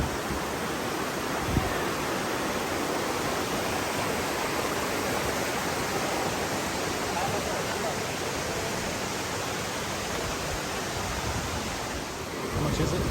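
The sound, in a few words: Sinulom Falls waterfall in Mindanao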